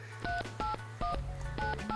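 Phone keypad tones as a number is dialed on a cell phone: five short, evenly spaced beeps of differing pitch, clear and close with a soft steady hum underneath and no talking.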